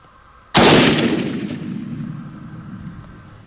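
A single sharp rifle shot cracks out close by during an eland hunt, then a long rumbling decay rolls away over several seconds in open country.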